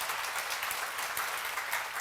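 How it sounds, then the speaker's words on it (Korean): Congregation clapping during a church seminar sermon, a soft, even wash of many hands heard from a distance, continuous and faint with no voices over it. "지금 박수 한번 치시기 바랍니다"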